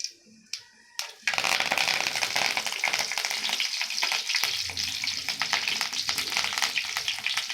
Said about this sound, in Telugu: కొంచెం వేడెక్కిన తర్వాత కొద్దిగా ఆవాలు, జీలకర్ర, తర్వాత కరివేపాకు,